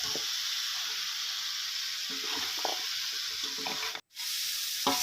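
Crispy fried catfish is stir-fried dry with curry paste, a steady close sizzle with scattered scraping and clatter from a spatula tossing the pieces, cutting out briefly near the end before resuming.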